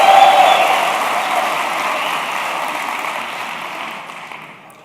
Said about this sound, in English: We get some clapping and just simultaneously clap for some reason.